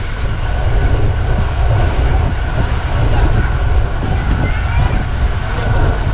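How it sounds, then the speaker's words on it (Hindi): The Bahauddin Zakariya Express runs at top speed, giving a loud, continuous rumbling roar of wheels and carriages with a faint clatter throughout, close and unbroken. "महाउद्दीन ज़िक्रिया एक्सप्रेस अपनी टॉप स्पीड के अंदर दौड़ रही है इस वक्त।"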